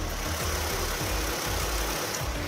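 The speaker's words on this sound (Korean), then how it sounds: "엔진 소음을 담기 위해 본네트를 한번 열어봤는데요. 영상으로 엔진 소음 한번 담아보도록 하겠습니다." A domestic large LPG sedan idles with the hood open, a steady, low, even engine rumble with a regular pulsing rhythm, close and quiet, with no talk.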